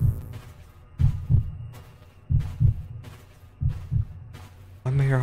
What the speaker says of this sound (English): Heartbeats. Heartbeats.